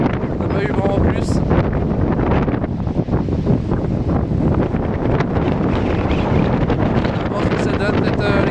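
Strong gale-force wind at Pointe de Chemoulin on the French coast, roaring continuously and loudly across the microphone with heavy buffeting and gusts throughout.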